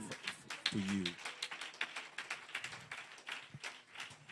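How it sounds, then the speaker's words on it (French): A church congregation gives scattered, quiet applause during a sermon, with irregular claps continuing over a brief voice. "Donnez-lui une main d'acclamation."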